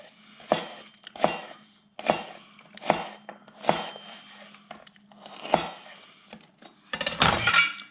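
A knife slices through a pre-peeled onion on a cutting board in a kitchen, giving about eight distinct, fairly loud chops in an uneven steady rhythm, ending in a denser rustling burst of cuts.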